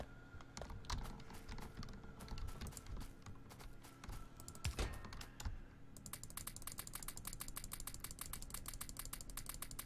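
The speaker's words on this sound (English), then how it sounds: "I might be clicking a lot." Rapid mouse and keyboard clicking while playing the Factorio video game, dense fast clicks that become a steady quick rhythm in the second half, close and distinct over low game sound.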